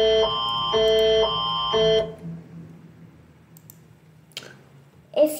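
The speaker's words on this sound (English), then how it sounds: "EAS alarm." The Canadian EAS emergency alert tone blares in three loud, pulsing bursts of piercing layered pitches, then cuts off into quiet room noise broken by a couple of faint clicks.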